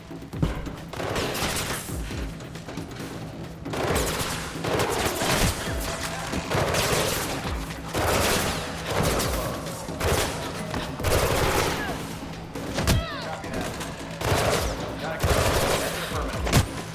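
Enemy gunfire in Mirror's Edge Catalyst, repeated loud bursts of automatic shooting and sharp impacts in irregular waves over about seventeen seconds, with a steady low hum underneath and occasional voices.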